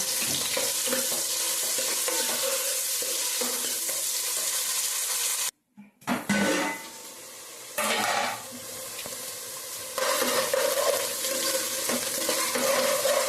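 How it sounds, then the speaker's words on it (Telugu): Onions and green chillies frying in hot oil, a close, steady sizzle that briefly cuts out and returns in louder bursts, no voices. "ఆయిల్ అయితే కాలుతా ఉంది ఉల్లిపాయలు పచ్చిమిరపకాయలు వేసి బాగా వేయించుకుందామండి"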